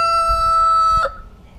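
A rooster crows loudly and close in one sustained, strongly pitched call lasting about a second before cutting off, leaving quiet yard noise behind.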